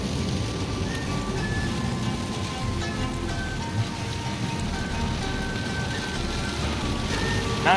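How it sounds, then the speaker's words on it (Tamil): Steady rain patters over a broad hiss during an off-road trip in Saudi Arabia, with faint low rumbles and no talking. "இங்க மழை அடிக்குது, ஆனா இங்க வெயில் அடிக்குது."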